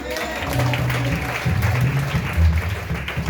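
A church congregation breaks into applause and acclamation, a full crowd of clapping hands mixed with cheering voices and murmured shouts that fill the room throughout.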